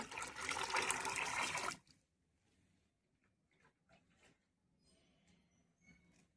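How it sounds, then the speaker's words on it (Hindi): A one-litre mug of RO water is poured into a vessel in one loud, rushing splash lasting under two seconds. After it, quiet dripping and small clinks follow. "अब ये दूसरा मग इसके अंदर डाल दिया।"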